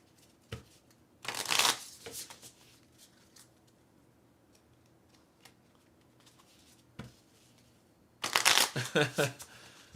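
Playing cards are shuffled in two quick riffling bursts, crisp and close, separated by a quiet pause with a soft tap.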